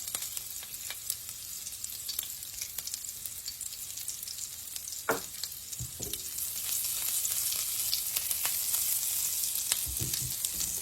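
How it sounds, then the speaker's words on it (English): Green chilli, sesame seeds and cumin seeds frying in warm oil, a soft steady sizzle with scattered pops and spatters that swells louder and brighter in the last few seconds. "the oil is already warm. And now I'm going to add 1 green chilli, sesame seed"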